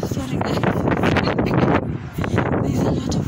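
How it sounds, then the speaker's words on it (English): Strong outdoor wind buffets the microphone in loud, rumbling gusts that rise and fall, while a voice talks underneath. "There's a lot of wind."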